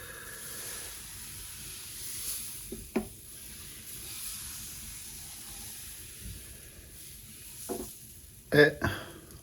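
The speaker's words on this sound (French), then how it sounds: "Et on fait tourner notre racloir dessus. On laisse cuire." A scraper swirls crêpe batter across a hot pan: a soft sizzle and hiss runs throughout, broken by a few faint scraping strokes and small clicks near the end.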